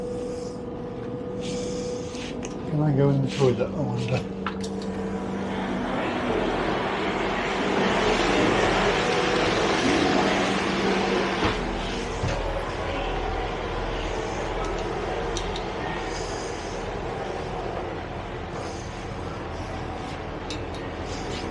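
A GWR train on the Westbury to Melksham line passes, a broad rumbling roar that swells over several seconds and then holds steady before easing, with brief talk near the start.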